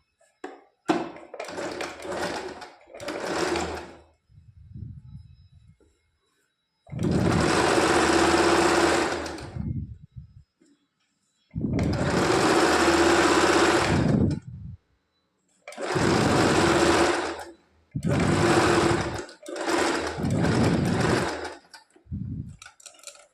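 Sewing machine stitching a three-piece princess-cut blouse, running in several loud bursts of steady whirring with short pauses between, close by with no talking.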